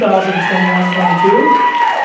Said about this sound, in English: please, again, one more round of applause for the 2021-22